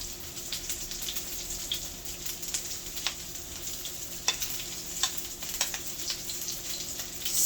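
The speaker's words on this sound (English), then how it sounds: "I like to hear the sizzle." Steady frying sizzle of an egg mixture in a pan with crackling pops and occasional scraping or stirring clicks, close and continuous.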